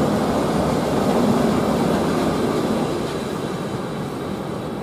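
An ETR521 train passes on a test run on the Brenner railway, a loud, steady broadband rumble and rolling roar that fades slightly toward the end, with no talking.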